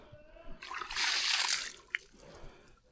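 A person splashes and wades through cold water outdoors, a broad burst of sloshing that swells for about a second and then fades, with one sharp splat near the end.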